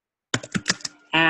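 Computer keyboard keys tapped out in a short burst of about five quick presses while a note is written, followed by a brief steady tone; close and clear with no talking.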